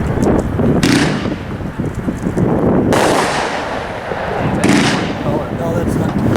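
A Grenade Extractor firework shell at a fireworks company demo launches and bursts in a series of loud booming cracks with crackling tails, and people talk during the show.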